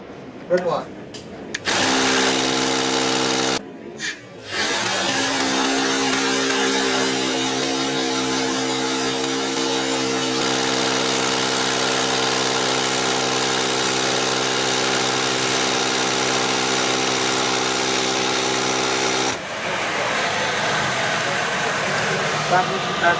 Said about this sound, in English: When I turn the demo on, the impact driver will begin to spin, and the magnetic clutch will apply load to the driver bit tip.